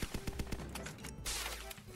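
Rapid bursts of gunfire from Fortnite, a quick run of sharp shots followed by a longer sustained rattle, loud and close with no talking.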